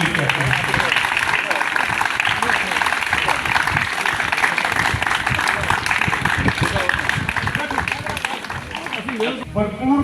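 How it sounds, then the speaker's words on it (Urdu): An audience claps to welcome the headmaster during a room inauguration at Government High School Karnana, Kharian, Gujrat, Pakistan. The applause is dense and sustained, with a voice speaking over it. "آپ کی بھرپور تالیوں میں ان کو بھی خوش آمدید کرتے ہیں"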